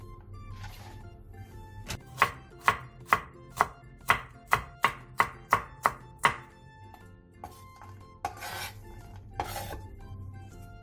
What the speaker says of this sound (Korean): 통마늘 7개를 얇게 편 썰어주세요. 대파 3분의 1개를 쫑쫑 썰고 청양고추 2개는 어슷 썰게 해주세요